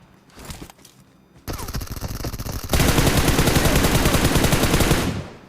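Sustained automatic gunfire in the mobile battle-royale game PUBG Mobile, played on a Redmi Note 8 Pro: a few sparse shots, then a steady rapid burst that grows denser and louder before cutting off.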